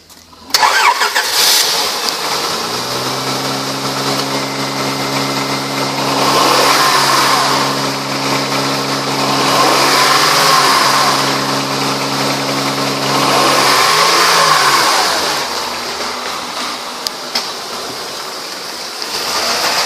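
A 2004 Honda Pilot with about 284,000 miles cranks and starts, then settles into a steady idle and revs up and down in slow swells, loud and close with no talking.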